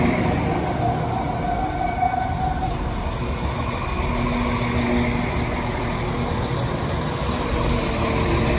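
A Class 196 test train rumbling past close by at a station for several seconds, steady and loud with tonal wheel squeal drifting over the rumble.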